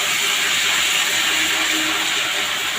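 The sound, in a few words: cumin, ginger and cumin paste sizzling in hot oil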